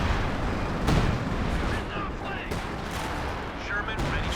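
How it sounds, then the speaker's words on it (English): Artillery barrage in Company of Heroes 2, a dense rumbling wash of distant booms and explosions rolling continuously under game noise, with a sharper blast near the start. "Major artillery just to clear the way."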